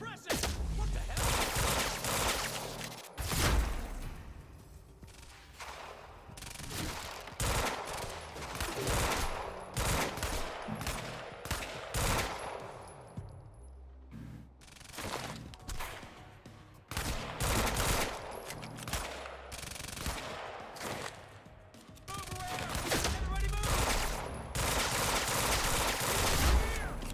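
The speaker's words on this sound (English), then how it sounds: "Keep shooting." Dense, rapid gunfire in the video game Quantum Break, with sustained automatic bursts and loud overlapping shots throughout, close and intense, and voices calling out at points amid the shooting.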